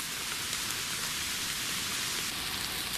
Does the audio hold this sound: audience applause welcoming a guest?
no